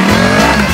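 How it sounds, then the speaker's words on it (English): A Kawasaki Vulcan S motorcycle with its Ninja-derived engine runs hard at speed while cornering on the Natchez Trace Parkway, a loud steady engine drone with strong wind rush, heard close and continuous. "this Vulcan S has a lot of power from its Ninja Drive engine"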